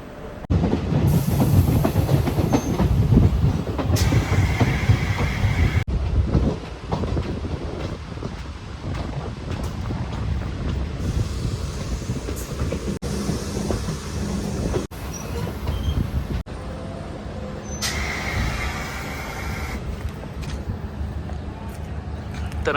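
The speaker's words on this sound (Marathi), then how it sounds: "वेताळवाडीला आता ट्रेन पोचलेली आहे" A passenger train runs on rails between Vetalwadi and New Ashti with a steady, loud rumble and clatter of wagons throughout, faint wheel squeal at moments, and voices talking over it.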